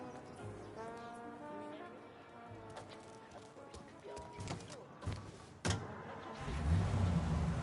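A car drives in the video game Mafia Definitive Edition, its steady engine hum rising toward the end, with tonal honk-like sounds and a sharp clunk midway.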